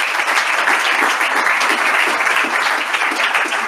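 Dense, steady applause from an audience at the end of a technical talk, loud and sustained throughout with no voices over it.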